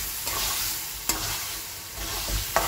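Washed Gobindobhog rice is stirred with spices in a hot pan, a close sizzle broken by a few sharp scraping clicks of the spoon, no one speaking.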